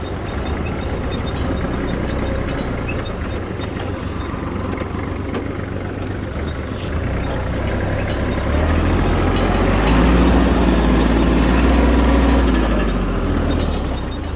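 A Kubota GL21 four-wheel-drive Japanese mini tractor rumbles steadily while backing up in reverse, its diesel engine droning close by and growing a bit louder and lower toward the end, with no talk.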